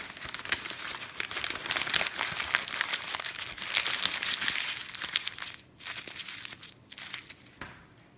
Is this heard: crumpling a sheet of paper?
yes